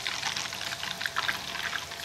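Vinegar and water circulate through a small closed watercooling cleaning loop with a reservoir and quick disconnects, producing a steady, continuous pouring, trickling wash of liquid that runs unbroken and fairly close throughout.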